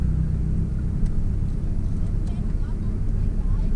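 Manual-transmission car pulling away and accelerating as the driver gives it gas during a learner's lesson, a steady low engine rumble heard from inside the cabin, close and continuous throughout.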